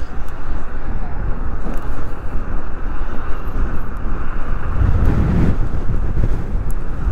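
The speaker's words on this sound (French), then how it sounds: "Ouah, le vent, les gars, regardez toutes les feuilles qui volent." Strong gusting wind roars steadily across an open outdoor street, with leaves blown and scattered, the buffeting loud and continuous with a heavier surge near the end; a voice can be heard faintly in the background.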